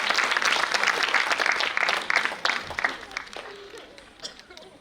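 An audience at a Sanskar Bharti cultural event bursts into loud applause, dense clapping that gradually thins and fades out.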